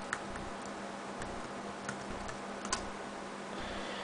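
A password is typed on a Dell E6410 laptop keyboard. Light, quick key taps come in an uneven patter over a steady background hum, with no speech.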